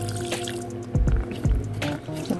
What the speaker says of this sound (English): We're gonna add 2 cups of water because I don't have milk.